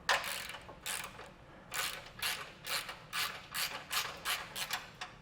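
A hand ratchet backs off 16mm bumper bolts on a 2021 Jeep Wrangler, with about nine quick, evenly spaced clicking bursts, close and clear, and no talking.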